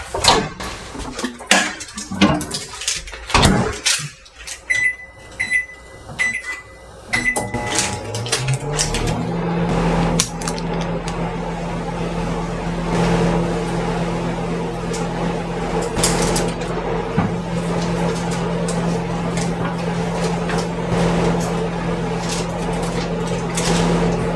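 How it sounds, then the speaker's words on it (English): Doors and clattering at first, then a steady low electrical hum of a microwave oven heating Tombstone Pepperoni Pizza Stix on a plastic plate, running continuously for several seconds. "let's get this cooked up for a minute and a half in the microwave"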